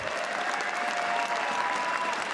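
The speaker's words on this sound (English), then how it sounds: "Please give a round of applause for tom60229 from Taiwan." Dense, steady applause from a large audience at the 2017 Hearthstone Championship Tour World Championship semifinals fills the whole stretch, loud and sustained without a break.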